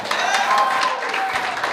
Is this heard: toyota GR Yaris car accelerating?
no